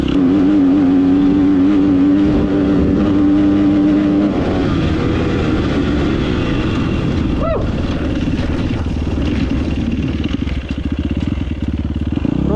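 A Chinese enduro motorcycle with a KTM engine rides loudly and close through a grassy field, its engine droning and revving steadily with the rear wheel spinning in the grass.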